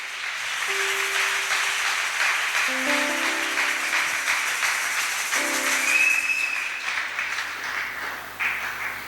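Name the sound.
congregation applauding at church wedding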